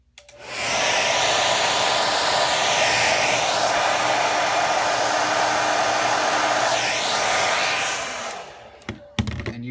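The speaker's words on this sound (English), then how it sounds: "I'm going to use a hair dryer and blast the whole thing." A hair dryer blasts steadily at a circuit board for about eight seconds, a loud, even rushing whoosh with no talking, then cuts off and leaves a few brief clicks and handling knocks.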